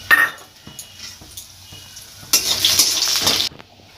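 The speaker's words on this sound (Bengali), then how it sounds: "বড়িটা একটু ভেজে নেব।" Bori lentil dumplings frying in hot mustard oil in a kadai: a few soft clinks of stirring, then a loud, close burst of sizzling that lasts about a second before dying back to quiet.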